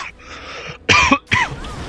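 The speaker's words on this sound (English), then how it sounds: "Excuse me for the cough." A single person, close to the mic, coughs and clears their throat in two short, sharp bursts after a quiet pause.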